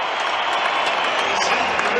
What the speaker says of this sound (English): And this crowd in celebratory mode yet again